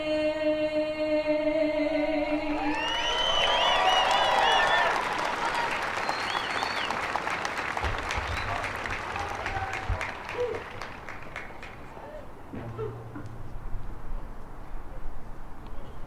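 A ceremony crowd at Houston National Cemetery claps and cheers for a young singer after the national anthem, with the final sung note giving way to sustained applause that slowly tapers under a speaker's voice.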